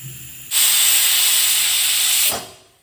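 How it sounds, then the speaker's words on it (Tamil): A loud, steady hiss of escaping steam with a high whistling tone from a pressure cooker whistling once. It lasts about two seconds and then cuts off sharply. "1 விசில் வந்துடுச்சு, அடுப்பு ஆஃப் பண்ணிடலாம்."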